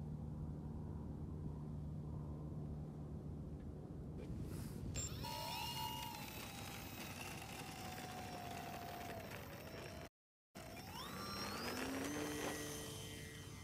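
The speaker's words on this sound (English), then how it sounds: "This plane taxis really nice." A 3D-printed LW-PLA RC bush plane with an electric motor taxis on the ground, giving a high whine that rises and falls with the throttle over a low rumble. It starts faint and grows louder, with a brief cut partway through and no talk.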